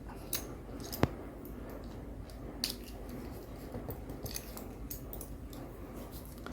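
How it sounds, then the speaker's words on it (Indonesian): Crimping pliers press a network cable connector in a quiet room, giving one sharp, close click followed by a few faint, soft clicks and rustles. "lakukan pengepresan di tang krimping kembali"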